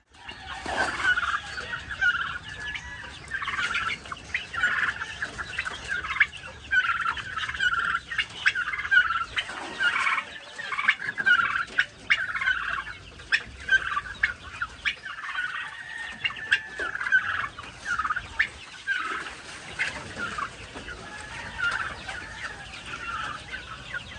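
A crowd of chicks on a farm chirps and peeps continuously during feeding, a busy, dense chorus of high calls with occasional clucks, close and fairly loud throughout.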